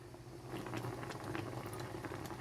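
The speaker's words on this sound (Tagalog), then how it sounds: "hintayin lamang po natin na kumulo" Creamy chicken pastel seasoned with fish sauce bubbles and simmers in a covered pot, giving a steady, close boiling burble with soft pops throughout and no voices.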